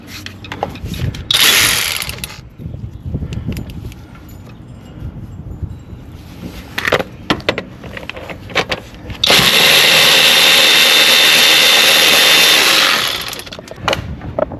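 Ratchet wrench working 13 mm alternator bolts on a Dodge Grand Caravan, bursts of rapid clicking between pauses, with one long loud ratcheting run near the end.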